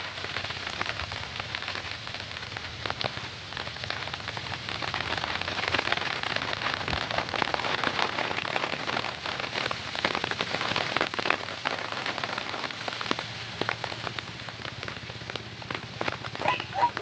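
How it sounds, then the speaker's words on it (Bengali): Heavy rain pours down steadily and close by outdoors, a dense, unbroken hiss of drops on surfaces that holds for the whole stretch with no voices. "প্রচুর জোরে বৃষ্টি হচ্ছে।"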